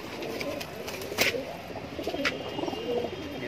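A small female high-flyer pigeon gives soft cooing calls against a steady background hum, with faint voices around it.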